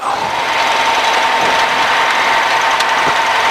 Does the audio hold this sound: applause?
no